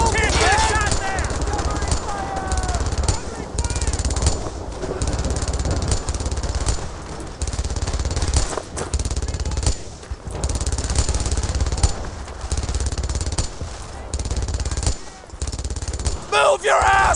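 Heavy gunfire erupts in the World War II shooter Brothers in Arms: Earned in Blood, with rapid machine-gun bursts and rifle shots firing almost nonstop, loud and close, while soldiers shout orders over the battle.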